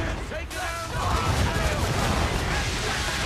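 Cannon fire from warships in the video game Assassin's Creed III, a dense, loud rumbling barrage of booms that swells after a brief lull and carries on steadily to the end.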